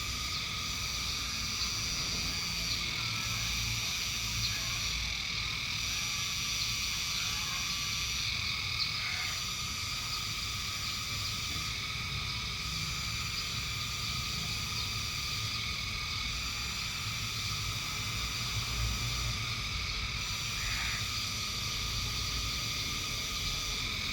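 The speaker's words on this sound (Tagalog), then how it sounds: "Pinarinig ko lang sa inyo yung kuliglig." Dense insect chirring, likely crickets, fills a rural countryside evening in late afternoon, a continuous high buzzing drone with faint pulsing, steady and moderately distant, with no voices.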